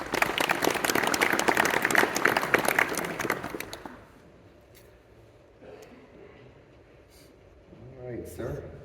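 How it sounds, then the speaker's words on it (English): A live audience gives a hearty round of applause for about four seconds, loud and dense, then it cuts off into quieter room sound with a few faint voices. "would you please give them a big round of applause?"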